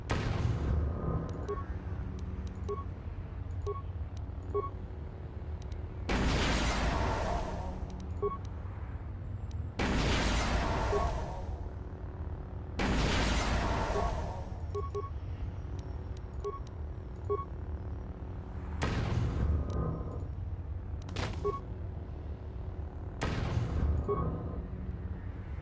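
Sonic grenade explosions in Star Wars: KotOR 2 (20th Anniversary) on Nar Shaddaa, five loud broadband bursts spaced a few seconds apart over a steady game ambience with faint beeping tones.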